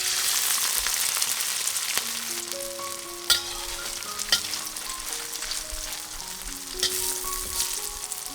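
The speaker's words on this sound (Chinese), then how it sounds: "稍微的炸一下。" Seafood frying in hot oil in a wok or pan for Korean kimchi fried rice, a steady bright sizzle with occasional clinks and stirring taps throughout.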